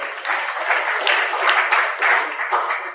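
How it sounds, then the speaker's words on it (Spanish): A church congregation breaks into applause, a close, dense burst of many hands clapping that rolls on steadily in waves. "¡Denle un aplauso al Señor!"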